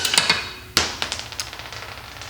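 A SeeSii cordless 1/2-inch impact wrench removes a nylon lock nut, giving a loud opening hammer burst followed by a string of sharp, rattling impacts that gradually soften, heard up close with no talk.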